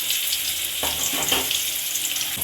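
Ginger garlic paste sautés in hot oil for a Hogenakkal-style fish curry, giving a steady close sizzle. A couple of brief stirring scrapes cut through near the middle.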